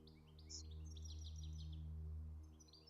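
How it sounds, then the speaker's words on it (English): Birds sing faintly outdoors: scattered high chirps and short tweets over a steady low hum, with no one talking. "Y'all hear it's like the birds or whatever?"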